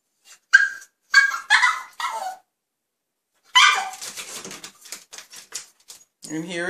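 Short, sharp dog barks come in separate bursts with gaps of silence between them, close and fairly loud, with one longer, lower vocal sound near the end.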